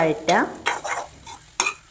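Shallots, dried red chillies and soaked tamarind stir-fried in a pan for pumpkin theeyal, a short burst of scraping spatula strokes with light sizzle and metallic scrapes, close and brief, no talk.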